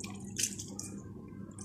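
Water is poured onto plants in a hot desert setting. Faint splashes and scattered drips sit over a low background hum, with no one speaking.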